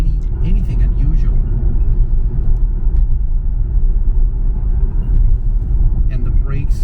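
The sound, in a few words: 2004 Subaru Impreza WRX STi driving on bumpy road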